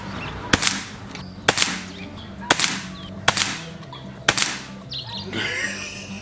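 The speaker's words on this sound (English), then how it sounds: "shooting these 22 grain pellets" An air rifle shoots 22 grain JTS pellets in five sharp, evenly spaced cracks about a second apart, each with a short ringing tail, then rustling at the end.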